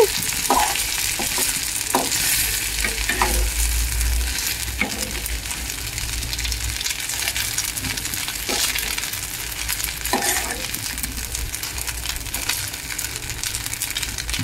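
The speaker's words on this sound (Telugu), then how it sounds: "అల్లం వెల్లుల్లి పేస్ట్ కూడా ఫ్రై చేసుకోవాలండి. సిమ్లో పెట్టుకొని ఫ్రై చేసుకోవాలి." Ginger garlic paste sizzles and fries in a pan on low heat together with goat brain, a steady crackling hiss with occasional soft stirring scrapes throughout.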